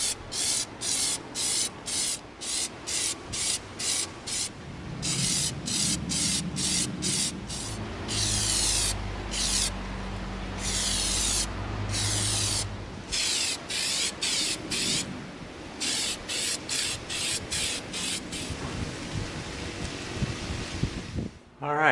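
Plastidip coating is sprayed onto EVA foam in a rapid series of short aerosol bursts, some longer and some clipped, close and fairly loud, with faint rubbing and handling noise between the bursts.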